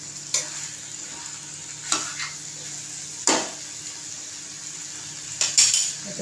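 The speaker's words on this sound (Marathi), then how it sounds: "एकदम अशी चांगली मिक्स करून घ्यायची भाजी" Vegetable bhaji stirred and mixed in a pan, a spoon scraping the pan in a few distinct strokes over a steady low sizzle, close and moderately loud with no talking.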